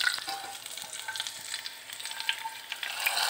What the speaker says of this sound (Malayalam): അതിൻ്റെ ഫ്ലേവർ നഷ്ടപ്പെടുന്നതിനൊക്കെ മുമ്പ് നമ്മുടെ കറിയിലേക്ക് ഒഴിച്ചു കൊടുക്കാം.